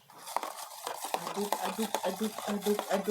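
Batter being stirred in a bowl just after a spoonful of cooking oil is added, giving a steady, scraping, rhythmic swish of a spoon, close and moderately loud, repeating several times with no talk.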